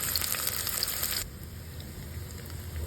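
Spices sputter in hot oil before onions go in, a loud crackling sizzle that drops abruptly to a quieter steady hiss partway through, with no talking.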